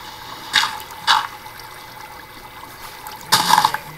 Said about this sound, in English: And a babbling brook.